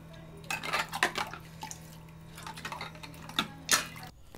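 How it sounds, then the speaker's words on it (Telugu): Silver items being rinsed by hand in water, with clinks of metal against a vessel and splashing in scattered bursts over a steady low hum, fairly close and fairly quiet, with no talk. "అండ్ వాటర్లో ఇప్పుడు నేను కడిగేసుకుంటున్నాను ఫుల్గా"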